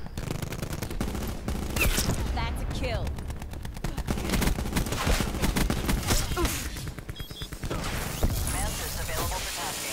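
Gunfire from a strafe run in the video game Black Ops 4, dense sustained automatic fire and impacts across the whole stretch, loud and continuous with game sound effects layered in.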